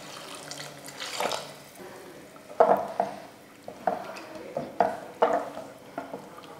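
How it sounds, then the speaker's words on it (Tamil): Water is poured into a pan of kurma with tomatoes, a soft splashing stream followed by several brief sloshing and clinking bursts, fairly faint and with no talking. "இப்போ தேவையான தண்ணி சேர்த்துருவோம்"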